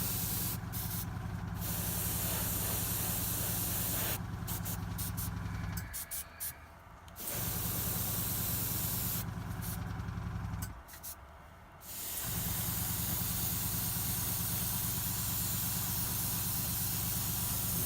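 Airbrush spraying paint onto an Ogryn bust, a steady close hiss that runs nearly continuously, broken by two short pauses, with circular blending passes.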